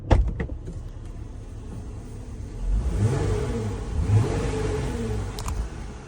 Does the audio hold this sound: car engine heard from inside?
yes